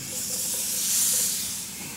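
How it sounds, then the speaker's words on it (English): Butter and onions sizzle in a hot pot, a steady bright hiss holding throughout and swelling slightly in the middle, close and fairly loud with no talk. "Take 1/4 pound of butter, put it in our hot pot, you see that sizzling?"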